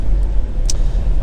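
A Renault Megane 2.0 dCi GT three-door diesel with a six-speed manual gearbox pulls along under power, heard from inside as a brief, steady low rumble with road noise and no speech.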